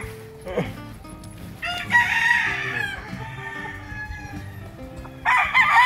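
Several gamefowl roosters crow loudly at an expo in Tanauan, their calls overlapping above a busy murmur of background voices and other fowl sounds.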